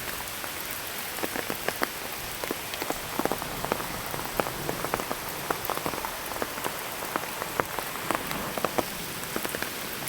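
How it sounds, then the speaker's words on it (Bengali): Steady rain falls over a rural village beside a canal, with scattered drops tapping sharply on a nearby surface against a constant hiss; no voices. "বৃষ্টি কেন একটু বন্ধ না"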